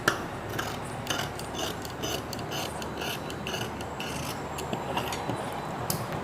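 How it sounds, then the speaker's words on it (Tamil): Scissors snip through chudidhar sleeve fabric in a steady run of short, crisp cuts and rustling cloth, close and fairly loud, with no talking. "இப்போ நம்ம ஸ்லீவ் கட் பண்ணியாச்சுங்க"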